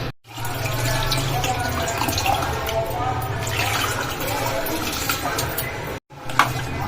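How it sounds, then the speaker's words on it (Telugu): Thick tamarind juice squeezed and poured into a pot of festival offering food in a home kitchen, a steady close splashing and trickling of liquid that breaks off briefly twice, with faint voices in the background. "ఈ చింతపండు రసం కూడా చిక్కగా పీసుకేసి అందులో వేసేద్దాం"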